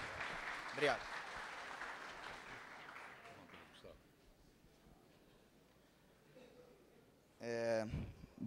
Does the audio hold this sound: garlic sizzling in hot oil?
no